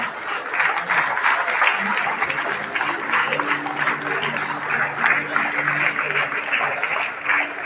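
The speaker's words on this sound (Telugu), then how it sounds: "చప్పట్లు కొడుతూ" Sustained applause from a large audience standing at a Christmas celebration attended by the state chief minister, dense steady clapping throughout with a faint tonal hum beneath.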